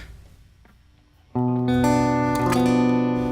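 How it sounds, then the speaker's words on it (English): A sustained, dissonant chord rings out after a quiet moment, its notes sounding together in a tense, unstable blend. "When you make a flat 5, it falls into a category of a diminished chord"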